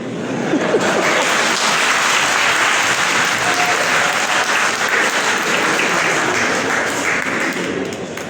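Audience applause during a church sermon, loud, steady clapping from a crowd sustained throughout, close and full.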